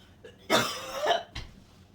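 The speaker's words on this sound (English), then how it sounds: "I'm coughing in my own food, so don't get mad at me." A person coughs up close, one short throat sound and then a harsh double cough, with no talking around it.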